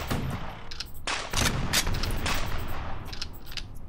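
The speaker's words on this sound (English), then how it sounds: "we've got a grenade launcher, so press 5 and just like bounce the grenades along the wall" Grenade launcher firing in the video game Loud or Quiet, a series of loud, sharp blasts with bursts of noisy crackle and booming low end, some shots overlapping into a sustained roar, with no talking.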